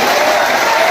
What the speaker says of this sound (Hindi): अपना भाषा सम्मान में जोरदार ताली